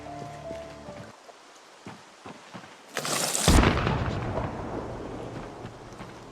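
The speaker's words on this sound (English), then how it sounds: "Wow, that was a loud gunshot." A loud gunshot in the game Project Zomboid bursts out as a single sharp blast, then trails off into a rumbling echo that dies away over several seconds.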